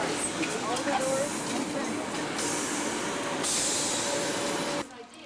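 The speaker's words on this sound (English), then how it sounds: "Everybody will take this train, spread out, use all the doors." Train standing in a station during a 2000 trip through Vienna, Salzburg and Munich, heard as steady rumbling and hiss with a faint tonal whine, busy crowd chatter over it, and a brief drop toward the end.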